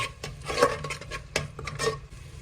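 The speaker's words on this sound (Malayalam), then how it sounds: "അതിലേക്ക് നമുക്ക് പിഴിഞ്ഞു വെച്ച നാരങ്ങൻ്റെ നീര് പാർന്നു കൊടുക്കാം അതൊന്ന് മിക്സ് ചെയ്യാം" A spoon mixing lemon juice into yogurt for chicken biryani, with short, close scraping and soft clinks against the bowl in an uneven rhythm.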